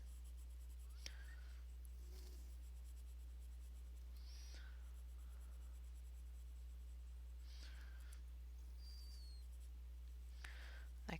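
A pencil shades dark folds on paper, soft scratchy strokes coming in short separate bursts across the stretch, close and quiet over a steady low electrical hum.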